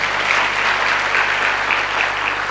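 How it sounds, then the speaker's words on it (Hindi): An audience at a leadership talk claps together, a dense, even burst of applause at steady loudness throughout with no voices over it. "देखो अभी ठीक से बजाओ ताली"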